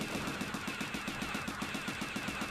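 Vulcan cannons fire in Mobile Suit Gundam Side Story I, a rapid, steady burst of evenly spaced shots, about six per second, over a constant dense hiss of background game noise.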